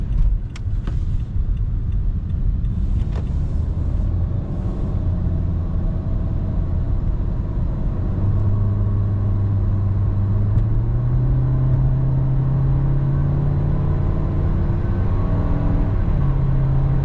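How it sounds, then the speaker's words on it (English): A small car drives fast down a back street, its engine and tyre rumble loud and steady from inside the cabin, with the engine note rising as it accelerates. "I hit 80 on this little car, kind of fast, man."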